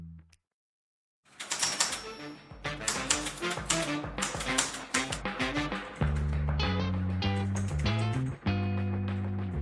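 Typing on a Fineday 3 aluminum Bluetooth mechanical keyboard with all-aluminum body and keycaps: rapid, close clicky keystrokes begin after a short silence and continue steadily, joined midway by a sustained tonal music-like layer underneath.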